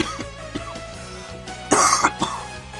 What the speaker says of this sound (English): please forgive me for coughing